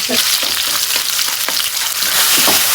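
Onion and spices frying in a pan, with a steady loud sizzle throughout and a few soft stirring scrapes, close to the mic.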